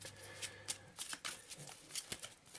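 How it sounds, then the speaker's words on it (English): A deck of cards for the Arkham Horror board game is shuffled by hand, quick irregular riffles and taps close up, soft and continuous. "So thoroughly shuffle those."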